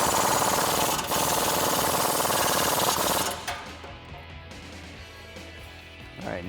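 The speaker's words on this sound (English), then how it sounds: "grab your 15mm deep socket and your 18mm wrench and tighten them down." Power tool with a 15 mm deep socket driving nuts tight on Dodge Challenger lowering-spring suspension, a loud rattling hammering buzz for about three seconds, then quieter clanks and handling noise.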